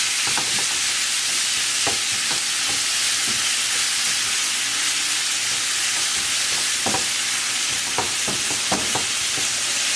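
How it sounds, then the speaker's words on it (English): Onions and garlic sautéing together in a pan as stuffed-pepper filling: a loud, continuous hiss of frying, close up, with scattered soft stirring knocks and no talking. "We are just going to dump the onions in here. The garlic is already in there, so just going to saute this together."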